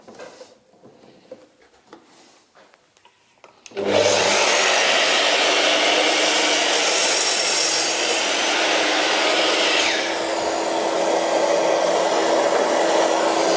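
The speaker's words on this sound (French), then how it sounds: "on va pouvoir réaliser cette première coupe d'angle" A power saw starts up after a few seconds of quiet handling noises and roars loudly and steadily through an angled cut in wood for a birdhouse, its pitch dipping slightly near the end.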